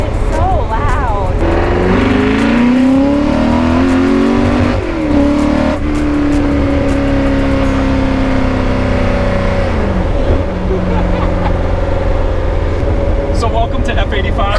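A street legal race car's engine roars loudly and continuously, with rising and falling revs and a sustained throaty drone close by, while people talk over it.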